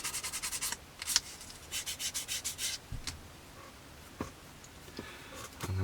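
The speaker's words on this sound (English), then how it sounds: "A couple of seconds with a sanding stick at this stage can save some filling and sanding later on." A sanding stick rubs a plastic part from an Airfix 1/72 scale Buccaneer S.2B model kit in short, rhythmic back-and-forth strokes, close and fairly soft. A few scattered clicks and light taps follow.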